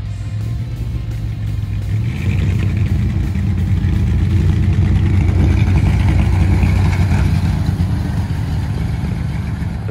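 Engine of a 1978 Toyota Land Cruiser FJ55 with dual exhaust runs steadily, a loud, deep idle rumble that swells slightly after the first couple of seconds and holds for the rest.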